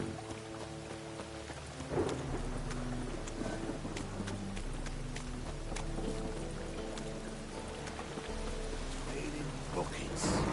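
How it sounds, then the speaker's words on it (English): Steady rain hisses throughout, with faint low rumbles of thunder and a layer of soft tonal music beneath it, in The Witcher 3: Wild Hunt. "witches have conjured rain."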